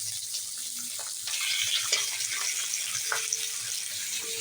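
Vegetables fry on a high gas flame, giving a steady, fairly quiet sizzling hiss with a few soft clinks and scrapes from the pan and no voices.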